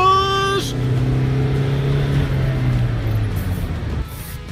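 A car driven by a first-time learner on a pavement, its engine droning loudly with pitch climbing then sagging as it revs, close and steady before cutting off near the end.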